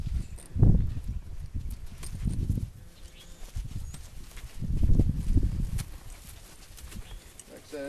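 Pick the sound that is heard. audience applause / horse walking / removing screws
horse walking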